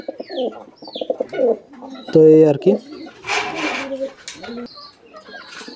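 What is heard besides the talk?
pigeons cooing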